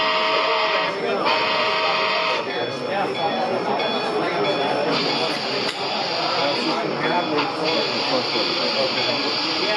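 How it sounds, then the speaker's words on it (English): A Soundtraxx sound decoder in a model locomotive starts up and chuffs, giving a steady loud hiss with faint rhythmic pulsing throughout, while someone talks over it. "you hear that chuff back off"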